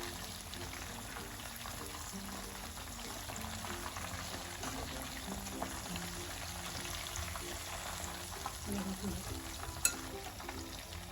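Chicken tikka frying in a pan over a low flame, a soft, steady sizzle and bubbling that runs evenly throughout, with one brief clink near the end.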